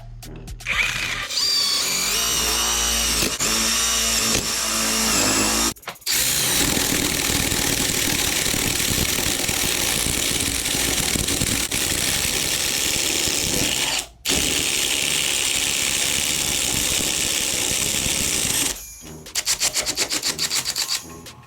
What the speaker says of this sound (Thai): ตัวนี้เป็นใบพายนะครับ เดี๋ยวจะลองมาเจาะดูบ้างนะ